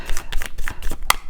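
Tarot cards being shuffled by hand: quick papery riffles and flicks in bursts across about a second, with a sharper snap near the end, close up and moderately loud.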